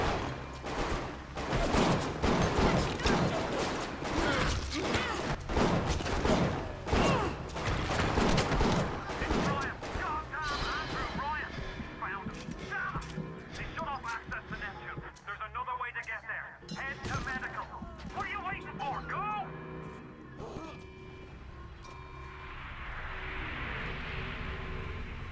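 Dense bursts of video game gunfire crackle rapidly through the first half, then thin out into scattered shots and electronic game sounds, with a player's voice talking over the action.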